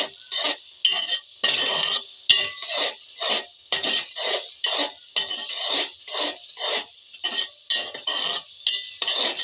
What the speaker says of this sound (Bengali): আবারও আমি নেড়ে দেবো।